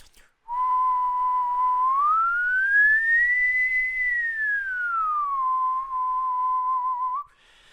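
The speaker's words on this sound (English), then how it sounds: "So let me show you by whistling." Someone whistles a single clear, sustained note that glides upward, holds high, then slides back down to the starting pitch, close and alone.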